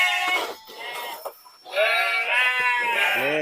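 Sheep and lambs bleat in a pen, several close, loud wavering calls in two bursts separated by a brief lull, with a faint voice near the end.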